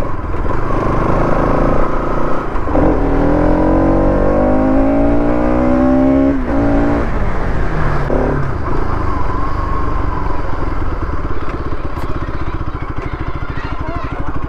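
An RS 200 BS6 motorcycle rides along a road, its engine loud and close throughout, with a rising rev sweep as it accelerates and shifts, then a steady drone.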